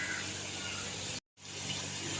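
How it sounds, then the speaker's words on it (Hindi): Water poured into a wok for a mint lemon drink, a steady close splashing gush that cuts out abruptly for a moment and then resumes, with no talking. "ये 2 गिलास पानी के डाल के कढ़ाई के अंदर मैंने इनको गर्म होने के लिए रख दिया है"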